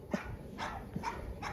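A Boerboel at a stud farm barks repeatedly, about four loud close-range barks spaced through the moment, with no talking over them.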